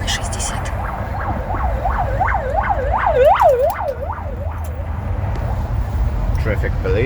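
A police car siren wails in Moscow traffic, its rising and falling sweeps growing louder and then fading as it passes over steady road noise, with a voice nearby.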